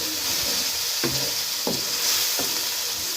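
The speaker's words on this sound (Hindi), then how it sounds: "ये डाल के अच्छी तरह मिक्स करेंगे।" Dry masala chicken being stirred in a hot pan, with a constant sizzle under several distinct scraping strokes of a spoon against the pan, close and fairly loud, no voices.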